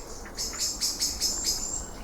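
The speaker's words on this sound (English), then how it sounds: "I'm going to move from here because the birds are freaking out." Repeated high, shrill chirping calls of agitated birds in an overgrown cemetery, about six close bursts in steady rhythm, fairly clear with no talking.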